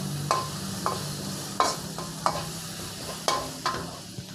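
Chili and garlic stir-fried over medium-low heat for a minced pork basil dish, with about six irregular scraping strokes of a spatula over a steady, soft sizzle.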